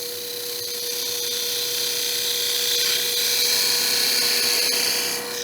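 Woodturning lathe tool cutting into a spinning wooden box blank, a continuous high whining scrape over a steady motor hum, close and fairly loud, easing off at the very end.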